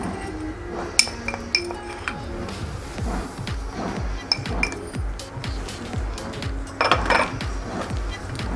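A metal spoon clinks repeatedly against a cooking pan as turmeric and salt are added for an instant green chilli pickle, sharp taps scattered over a low kitchen hum with a brief burst of sizzling near the end.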